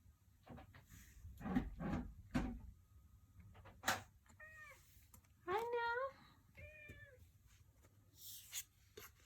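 A house cat meowing indoors, several distinct rising meows in quick succession near the middle, close and clear, with a person talking before and between them.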